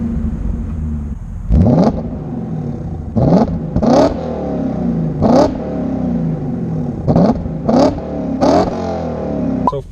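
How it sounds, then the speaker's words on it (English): A BMW M5's V8 revs loudly and close, with a steady engine drone broken by a series of sharp throttle blips and exhaust cracks spaced a second or two apart. "We're gonna start that V8 up. We're gonna get that exhaust cracking"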